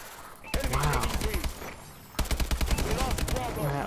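Two loud, close bursts of rapid automatic gunfire crackle in a first-person shooter game, with a short pause between them.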